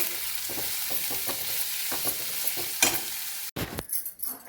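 Coconut, onion and garlic roast in a pan. A spatula stirs and scrapes in a regular close rhythm over a steady sizzle, then a few louder clatters come near the end.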